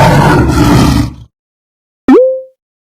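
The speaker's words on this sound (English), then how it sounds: "Lion." A lion gives one deep, loud, rough roar lasting about a second, then silence follows and a short cartoonish popping sound effect closes the clip.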